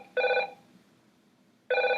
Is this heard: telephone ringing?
yes